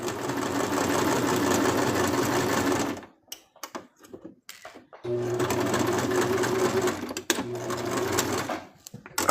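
Sewing machine stitching a plush circus suit on a long stitch setting, running fast and steady in two bursts separated by a pause of handling noise, close and fairly loud.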